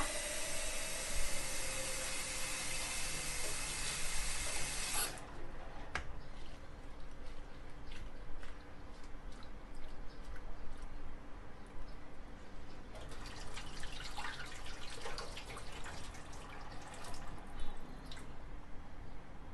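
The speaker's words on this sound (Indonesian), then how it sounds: "Ketika sawi sudah bersih dan dicuci dengan air mengalir" Water runs and splashes steadily in a broad hiss over mustard greens being washed, shifting to softer dripping and rinsing sounds partway through, with no voices.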